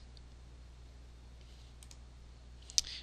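A computer mouse clicks during work in FeatureCAM 2014 CAM software: a couple of faint clicks, then one sharper, distinct click near the end, against a quiet, low hum.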